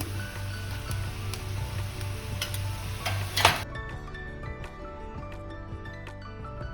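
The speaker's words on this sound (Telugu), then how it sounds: "క్యాష్యూ నట్స్ వేస్తున్నాను, జింజర్ గార్లిక్ పేస్ట్ వేస్తున్నాను" Cashew nuts and ginger garlic paste frying in oil in a pot for chicken pulao, a steady sizzle with a loud burst partway through, then quieter crackling and light utensil clicks, no voices.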